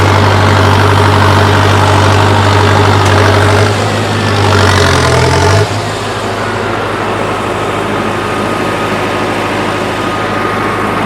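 A farm tractor with a cultivator attached idles in a field: a loud, close, low-pitched diesel rumble that holds steady, shifts briefly midway, then settles into a slightly quieter drone.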